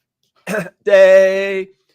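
A man clears his throat after a group sings Happy Birthday: a short rough scrape, a pause, then a longer voiced, tonal rasp of about a second, loud and close, with no other talk.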